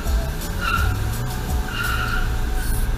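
Car tires squealing in sharp, high-pitched skids, two strong bursts over a steady engine rumble, loud and close.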